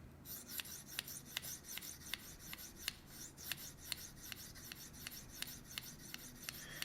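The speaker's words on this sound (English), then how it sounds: "I am pressing a little bit harder now that I'm trying to focus on getting this back portion sharpened." Steel knife blade sharpened freehand on a sharpening stone with firm pressure, a steady back-and-forth rasping scrape repeating roughly every half second, close and clear with no talk.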